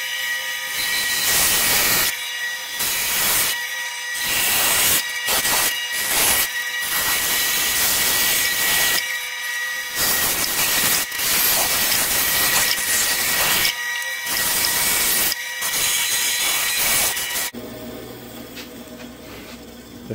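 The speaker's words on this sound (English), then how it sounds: "I've never done cut out a heart on the bandsaw" A bandsaw cuts a heart shape from wood, giving a loud continuous buzzing whine broken by short gaps as the cut pauses, then ending near the close with a quieter tail.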